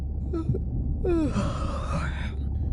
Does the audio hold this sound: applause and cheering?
no